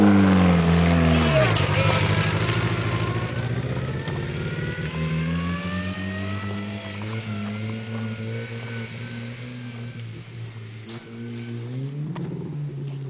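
A 1990 Honda Civic field car with its muffler fallen off revs loudly and close, its raw unmuffled engine tone rising and falling over the whole stretch, with a voice talking over it.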